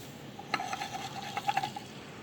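Glassware holding hydrochloric acid is swirled or stirred on a hot plate, giving a few soft, close clinks and faint liquid sloshing over a steady low background hum, with no talking.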